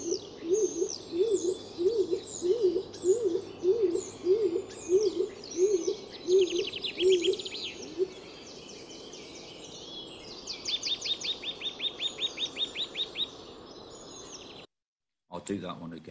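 An adult pair of nesting birds in a garden calls repeatedly: a regular series of short rising notes, then rapid trilling phrases, with other birds chiming in faintly around them, fairly quiet and close.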